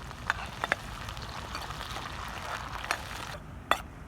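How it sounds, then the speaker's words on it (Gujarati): Finely chopped onion sautéing in a pan over an ajwain tempering for Gujarati bharela gavar, a soft steady sizzle broken by a few sharp clicks of stirring. "ડુંગળી સાંતળવામાં એકથી દોઢ મિનિટથી બે મિનિટ થઈ જશે"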